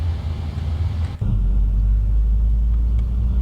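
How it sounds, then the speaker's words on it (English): The number 1 engine of an Airbus A320 spools up in a flight simulator game. A steady cabin hum gives way to a deep, loud rumble that settles into a continuous low drone. "Here's engine 1 starting."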